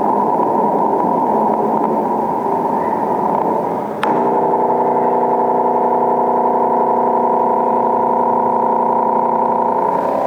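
Radio recording of a pulsar star rendered as sound: a steady, loud buzzing hum of rapid repeating pulses, broken once by a sharp click before settling into a tonal drone, with no voice over it.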